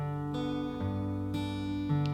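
An acoustic guitar slowly picks the opening phrase of a song. Single notes ring out and overlap clearly, with no talking.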